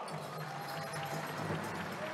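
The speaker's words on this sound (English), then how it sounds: "How about a round of applause for Dwayne Doc Wana?" A crowd at a wacipi powwow exhibition inside the Mall of America applauds an Army veteran with a steady, even wash of clapping that sounds somewhat distant, and voices murmur underneath.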